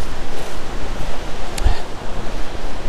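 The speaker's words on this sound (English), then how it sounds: "It's pretty breezy today as well, although not to the extent to bring trees down" Breezy outdoor wind on a walk between Northumberland villages, a steady broad rushing that fills the whole stretch, with brief gusty buffets against the microphone.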